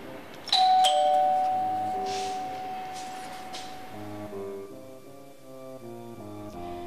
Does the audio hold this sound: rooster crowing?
no